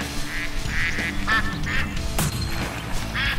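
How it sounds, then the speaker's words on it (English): Ducks quack repeatedly in a rhythmic series of loud, nasal calls during a duck hunt outdoors, the calls close and continuous over a noisy background. "Okay, John Luke, let's hunt some ducks"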